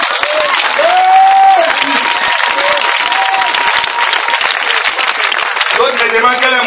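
Dense, loud applause and cheering from the crowd at an evangelistic crusade, sustained throughout with voices and a sung or shouted tone rising over the clapping.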